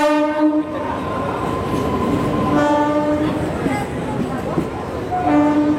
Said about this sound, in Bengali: আমি এই লোকালটা পাঁশকুড়া রেলওয়ে স্টেশন থেকে ধরছি।